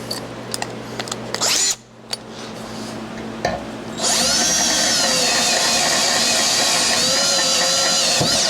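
A power drill bores a hole with a 1/4 inch bit while a gas tank is mounted on an XLCH chopper motorcycle. Scattered clicks and tool handling lead into a loud, steady high-pitched whine that runs to the end.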